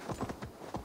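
Horse hooves in Assassin's Creed Valhalla landing after a jump, a quick loud series of clip-clop hoofbeats on the ground, brief and close.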